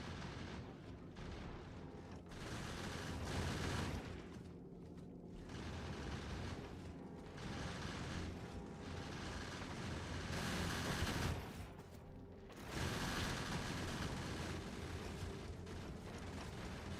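Gatling turrets in the game Factorio fire in sustained, dense rattling bursts with a mechanical clatter, loud and continuous for most of the stretch, dipping briefly twice before resuming.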